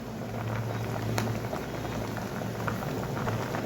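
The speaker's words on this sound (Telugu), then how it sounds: "ఇది ఒక 1 మినిట్ బాగా ఉడకాలండి" Gongura dal simmering in a pot, a steady close bubbling and hissing texture with a low hum underneath and occasional pops, continuous throughout.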